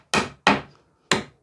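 Hammer striking nails back through a wooden pallet, three sharp, loud wooden knocks close by, the first two quick together and the third after a short pause, with nothing else heard.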